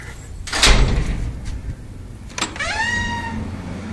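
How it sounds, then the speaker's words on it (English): A hotel room door at the Downtowner Motel in Las Vegas, unlocked with a key card: a solid thump and clack, then a sharp click followed by a rising creaking squeal as the door swings open, close by. "you just place your card against here. That little black thing, open up the door"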